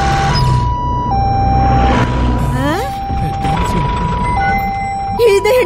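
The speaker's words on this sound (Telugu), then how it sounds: "ఇదేంటిది? అంబులెన్స్." A wailing ambulance siren in a film scene, its tone stepping between two pitches and later sweeping, loud and steady over music and voices, with people talking throughout.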